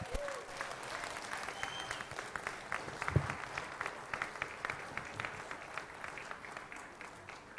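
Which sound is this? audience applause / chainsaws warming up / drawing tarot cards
audience applause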